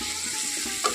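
Spices for a Bengali pointed gourd (potol) curry sizzle in a pan, a brief close hiss of frying with a light scraping stir and a small clink near the end.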